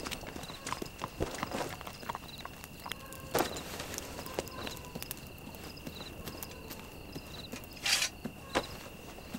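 Animals walk along with hooves clip-clopping at an irregular pace. A few sharper knocks stand out over a quiet background of steady insect or cricket chirping.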